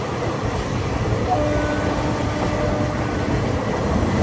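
Loud, continuous rumble of a moving train between Rayagada and Koraput, a steady low roar heard from on board with no breaks.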